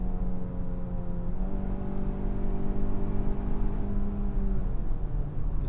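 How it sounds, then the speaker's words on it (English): A 2025 Hyundai Tucson Limited AWD four-cylinder engine revs high and strains under acceleration, a loud, steady, somewhat unrefined drone with rising harmonic tones heard from inside the cabin. "The engine revs really high, but there's just not a whole lot going on underneath the hood there."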